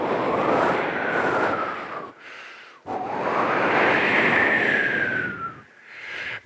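A human voice imitating howling wind at a university youth festival mimicry performance, two long whooshing gusts that swell and rise in pitch, separated by a brief pause, loud and close.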